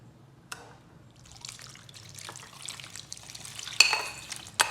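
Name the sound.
stirring tempering spices into brinjal chutney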